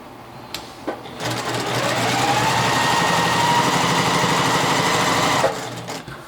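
A sewing machine stitches small quilt squares together with a quarter-inch seam, chain piecing one pair after another. It runs steadily and loudly for about four seconds, with a few clicks as it starts and stops.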